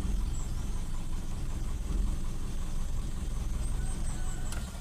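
Engine of a Toyota Kijang Super with hard starting, heard as a steady, dense low rumble that holds at an even level throughout, close up with no talk.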